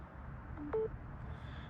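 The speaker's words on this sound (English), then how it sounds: "hopefully you guys will be able to hear the bing." A phone gives its charging notification as a single short, soft beep, quiet and close, near the middle of an otherwise hushed moment.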